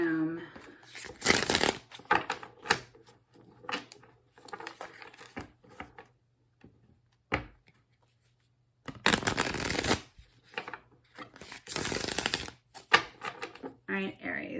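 A deck of tarot cards is shuffled in an echoey room, with several sharp riffling bursts separated by pauses and softer handling noises, and some talking in between.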